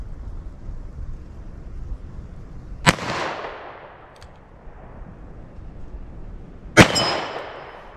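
Two sharp, loud gunshots from a .38 Special +P revolver with a 4-inch barrel, fired single action at a ballistic gel target outdoors, spaced about four seconds apart, each with a short ringing decay over steady background noise.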